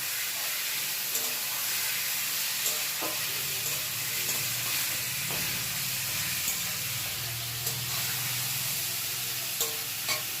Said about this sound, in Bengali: তারপর একটু নাড়াচাড়া দিচ্ছি।